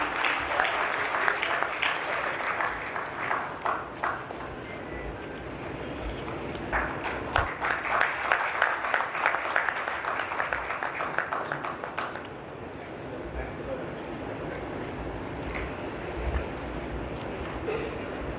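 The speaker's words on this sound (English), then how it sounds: "A big round of applause, please." A room full of people at an association's annual general meeting applauds a memento handover, the clapping dense and steady for about twelve seconds before easing into a softer, thinner patter.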